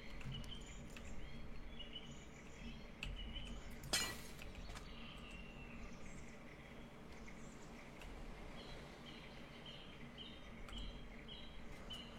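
A glass block breaks in a Minecraft-style video game while being mined with Silk Touch, one brief sharp shatter standing out over a steady hiss of ambient noise with faint chirps.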